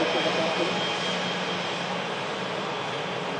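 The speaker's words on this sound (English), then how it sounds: "We'll capture this entire departure for you there, Jill." A TUI passenger jet departs from an airport, its engines giving a steady, loud, broad roar that holds evenly throughout.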